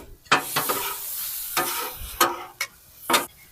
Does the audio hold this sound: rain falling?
no